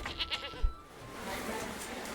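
A goat in the medieval city-building game Manor Lords gives a short, faint bleat near the start over soft game ambience, with a voice murmuring faintly.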